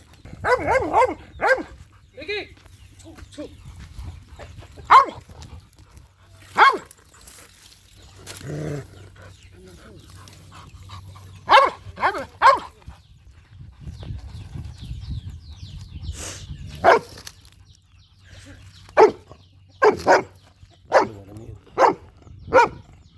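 Two pet dogs barking in sharp, irregular bursts throughout, fairly close, with short quiet gaps between barks and a low steady hum underneath.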